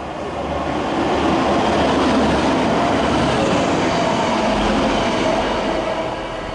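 A Class 185 diesel multiple unit passes through a station, sending a continuous, close rumble of wheels and engine with a low throb and some rattle that stays steady for several seconds.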